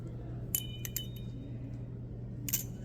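A Reaper balisong butterfly knife with a rock-textured blade flicks open and shut, giving a few sharp metallic clinks in quick bursts over a low steady hum, fairly faint and without talk.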